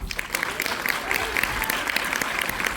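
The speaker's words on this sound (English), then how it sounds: "Let's give this incredible movie another round of applause." A theater audience gives a round of applause after a film screening ahead of a Q&A panel, dense sustained clapping from a large crowd filling the whole stretch with faint voices underneath.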